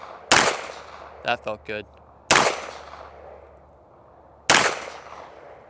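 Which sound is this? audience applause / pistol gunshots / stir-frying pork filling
pistol gunshots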